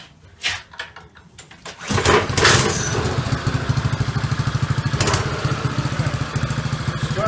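A few clanks and knocks, then a rebuilt Mini Boss chopper motorcycle engine fires up cold and settles into a loud, steady, rapid-pulsing idle close by.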